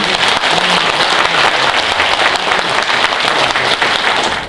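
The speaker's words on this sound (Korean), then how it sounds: "이 자리에 참석해주신 여러분, 우리 모두를 위해서 큰 박수 부탁드립니다." A packed hall of party members at a Democratic Party rally in Yeongdeungpo, Seoul, claps loudly and steadily for several seconds, dense continuous applause with no speech over it.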